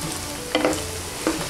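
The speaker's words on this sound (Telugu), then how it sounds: "ఇప్పుడు దీన్ని ఒకసారి ఇందులో ఆయిల్లో కొంచెం ఫ్రై చేసుకుందాం." Paneer cubes frying lightly in oil with a steady low sizzle, broken by two brief stirring scrapes partway through, close and moderately loud with no talking.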